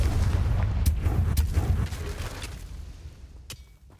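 Confringo blasting spell from Hogwarts Legacy, a heavy booming explosion with rumbling low body and a few sharp cracking bursts, then decaying with one more distant pop near the end.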